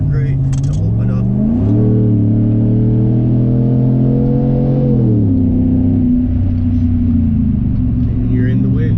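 A motorcycle engine revs and accelerates through a run of curves, its pitch climbing then dropping as the rider shifts, with steady wind rush and the rider's voice over it throughout.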